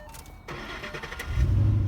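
A Ford Fox Body Mustang with a 351 Windsor V8 cranks briefly after a quiet pause, then catches and settles into a deep, steady idle rumble, close and moderately loud.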